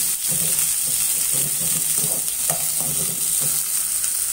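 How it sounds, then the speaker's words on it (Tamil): Shallots, curry leaves and green chillies frying in a pan while being stirred, giving a steady close sizzle with the occasional scrape of a spoon, continuous and loud with no talk. "வெங்காயம் ஓரளவு பொரிஞ்சு வரட்டும்"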